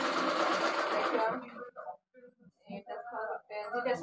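A sewing machine stitching a blouse runs loudly in a steady whir for about a second and a half, then stops, followed by someone talking.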